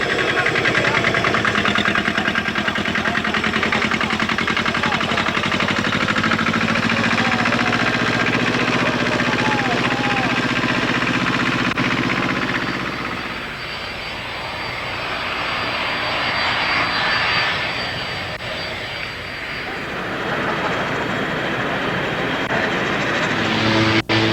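A Canadair Challenger business jet roars loudly at the Paris 1989 air show, a steady broadband engine rush that dips briefly midway and then swells back, with no voices over it.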